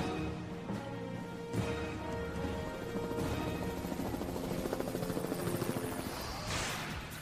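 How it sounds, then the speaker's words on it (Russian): Helicopter of the Team Extreme squad in a cartoon, its rotor thudding steadily and loudly throughout under a busy music and effects bed, swelling near the end. "Вертолет команды Team Extreme – верный глаз в небе."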